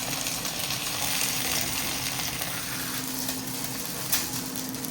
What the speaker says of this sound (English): Should probably put some more onions in the pan.